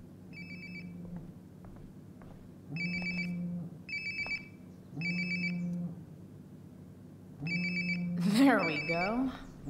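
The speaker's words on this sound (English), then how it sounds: "Sounds like my phone is definitely nearby." A phone rings in the video game Life Is Strange: Before the Storm, sounding in repeated short electronic bursts separated by pauses over a low tonal hum, with a rising swoosh of game sound near the end.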